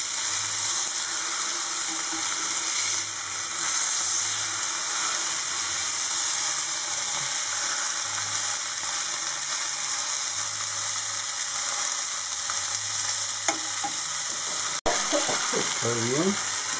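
Stuffed chicken breasts fry in very hot oil, a steady close sizzle running throughout with brief clinks and a sharp tap near the end, while a voice speaks faintly in the background.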